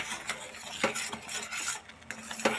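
Coconut paste and sugar mixture being stirred in a pan over a low flame, a spoon scraping and clinking against the metal in uneven strokes, close and fairly quiet with no talking.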